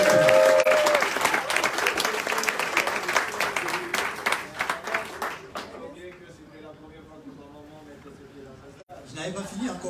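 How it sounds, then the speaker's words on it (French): Audience applause at a speech event for Cameroon football, loud dense clapping from a crowd that gradually fades and thins, with voices talking as it dies down and a brief renewed burst at the end. "Applaudissons pour la maman de Samuel Eto'o."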